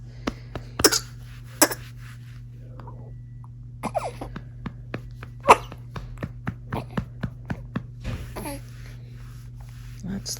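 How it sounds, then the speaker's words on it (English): A baby girl coughs repeatedly in a quiet room at home, with short sharp coughs and throat sounds coming in irregular clusters against a steady background hum. "when we hear her cough"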